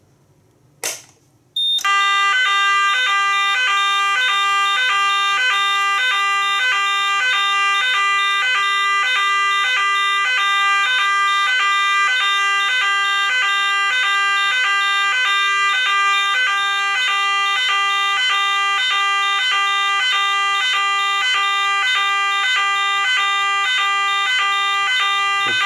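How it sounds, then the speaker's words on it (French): A Nugelec type 2A fire alarm panel sounder kicks in after a sharp click and blares a loud, continuous electronic tone with a steady pulsing pattern for over twenty seconds. "Donc là je déclenche l'alarme."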